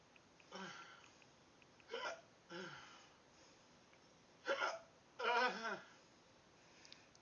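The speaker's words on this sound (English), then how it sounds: "Death by hiccups." A person hiccups repeatedly, about five or six sharp, voiced hiccups spaced irregularly across several seconds, fairly faint against a quiet room.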